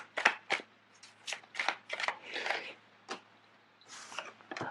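Tarot cards are shuffled close up in quick bursts of crisp riffling and slapping, with short pauses between and a quiet background.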